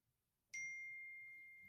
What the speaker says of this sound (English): That was a text message.